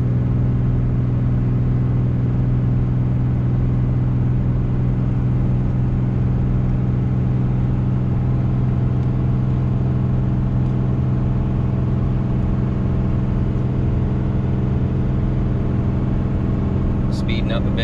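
A 2017 RAM 3500 Cummins diesel pickup towing 30,000 lbs, holding fourth gear at around 2,500 RPM up a climb, gives a steady, loud low drone and rumble that continues unbroken throughout.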